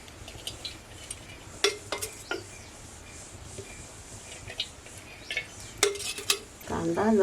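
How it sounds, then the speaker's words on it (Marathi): Spices being tempered in hot oil over a wood-fired chulha: utensil clanks and stirring scrapes come first, then a loud burst of sizzling near the end, with no talk. "चला आता फोडणी देऊया."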